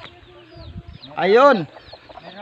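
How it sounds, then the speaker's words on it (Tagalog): Chickens on a farm, with one loud, close squawking cluck in the middle and softer clucks and rustling around it, while a person says a word. "So, marami si amang alagang manok dito sa bukid."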